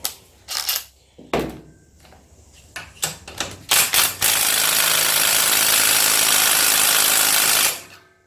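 An air impact gun works on a tight bolt during a Briggs & Stratton engine teardown: several short hammering bursts, then one long sustained rattling run, loud and close, with no talk over it.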